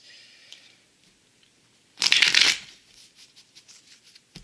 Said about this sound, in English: Shuffle these up good.